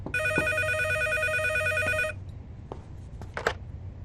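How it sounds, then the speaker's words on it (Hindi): A telephone bell rings with a sustained electronic trill for about two seconds, then stops, leaving a few faint knocks and clicks over background hum. "जनाब, फतेह के लिए फोन आया है"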